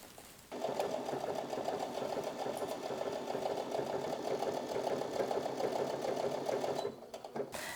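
Sewing machine running steadily, stitching a folded hem on a homemade fabric fruit and vegetable bag; a loud, continuous close-up whir that starts after a brief pause and stops near the end.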